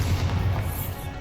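A Bombarda spell explosion in Hogwarts Legacy rumbles as a dense, loud, booming blast with a sustained low roar, close and alone for about a second.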